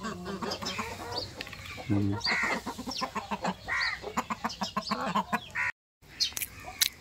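Chickens cluck repeatedly nearby in short bursts, with farmyard bustle and a brief drop-out near the end.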